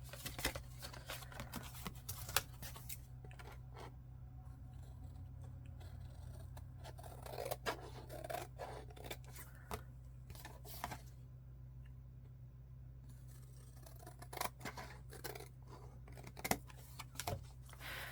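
Scissors trim a dried sheet of paper, giving quiet intermittent snips and crisp paper rustles close by in a still room.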